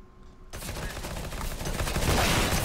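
Burst of enemy gunfire in the shooter game CS:GO, starting abruptly after a quiet moment and continuing as dense, rapid overlapping shots that build louder toward the end, with no talking.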